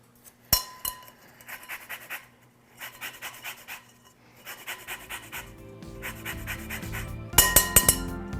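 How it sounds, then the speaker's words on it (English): Lemon zest being grated over butter and sugar: short rhythmic bursts of rasping strokes in several groups, with a sharp clink at the start and louder clattering near the end. "now is a great opportunity for me to add my lemon zest"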